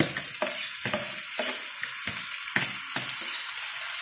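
Corn kernels are stirred in a cooking pot for Filipino corn soup, with a rhythmic scraping and clattering stroke roughly every half second over a continuous close sizzle.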